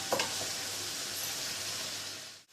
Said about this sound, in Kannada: ಸಫಲ್ ಫ್ರೋಸನ್ ಪೀಸ್ ತೊಗೊಂಡಿದ್ದೀನಿ ಅದನ್ನು ಹಾಕೊಳ್ಳೋಣ